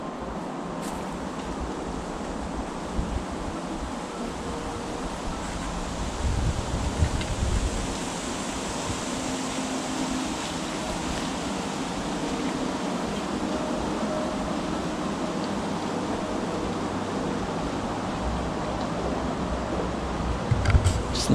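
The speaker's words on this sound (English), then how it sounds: "Just listening to the wind is very calming." Wind blows through Ahopsan forest in Busan, South Korea, as a continuous broad rushing roar with gentle gusts and some close buffeting on the microphone, steady for the whole stretch.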